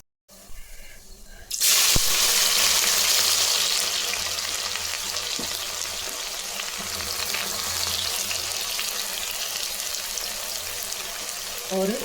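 Five cloves and pieces of cinnamon frying in melted ghee and hot oil for mutton biryani with seeragha samba rice; a loud, steady sizzle erupts as the spices hit the fat and keeps crackling without a pause, with no one speaking.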